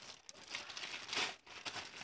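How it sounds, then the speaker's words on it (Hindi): Plastic wrapping pulled off a new bicycle air pump while unboxing it: a close, quiet crinkling and rustling that rises briefly to a louder crackle, with no talk. "तो गाइस अभी हम फटाफट से इसकी पन्नी निकाल लेते हैं"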